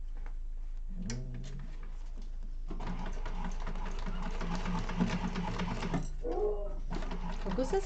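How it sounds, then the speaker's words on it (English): A sewing machine runs steadily close by, stitching the top seam of a Zynah bag at a 3/8 inch seam allowance, with a continuous motor whir and brief breaks where voices and a chirpy pet sound cut in. "we're sewing from the top with a 3/8 of an inch seam allowance"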